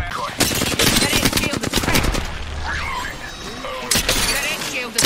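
Bursts of video game gunfire crackle rapidly in the first two seconds and again near the end, loud and close, with a voice talking over the shooting.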